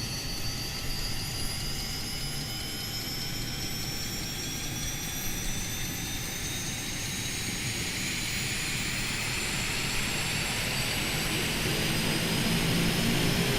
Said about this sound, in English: Engine start. Monitoring our NG, we're going to go into low idle.